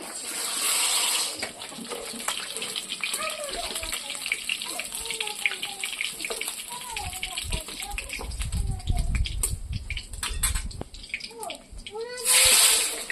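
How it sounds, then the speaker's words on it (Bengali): Bata fish sizzle steadily as they fry in a pan of hot oil, a continuous bright hiss running beneath nearly constant talking throughout. "বাকি মাছগুলো আমি ভেজে নেব।"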